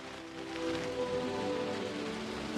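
Steady rain pouring onto dense forest foliage in the Wuyi mountains during the rainy season, a continuous close hiss with a faint tonal musical bed underneath.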